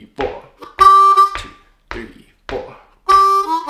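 Blues harmonica playing a turnaround lick at a faster tempo, with two bright sustained chords among short tongued notes, close and loud with brief pauses between phrases.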